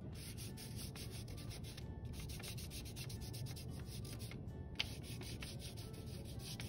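A finger rubs pink and reddish colour into white paper in steady, continuous strokes, a soft close scratchy friction with a faint repeating rhythm and no talking.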